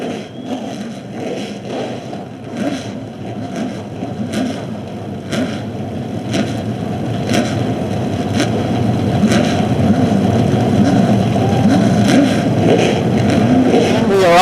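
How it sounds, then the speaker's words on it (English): Race car engines at a Columbus Main Event Racing Series event, a loud continuous wall of mid-pitched engine roar that builds steadily as the field revs together, with faint voices in the background. "Gentlemen, start your engines."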